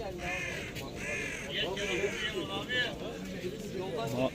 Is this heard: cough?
no